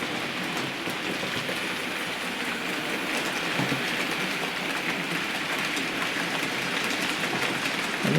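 A Hornby P2 R3440 gloss model locomotive runs along its track with a steady, close, even rattling hiss that holds unbroken throughout.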